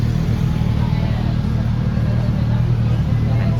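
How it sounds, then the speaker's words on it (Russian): A motorcycle engine rumbles along a busy Lisbon street, a steady low drone blending into the surrounding traffic noise and street ambience. "мотоцикл."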